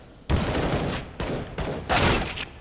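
Bursts of automatic gunfire from a Counter-Strike wall bang on the Mirage map come in three or four loud, dense volleys separated by short gaps, sharp and close.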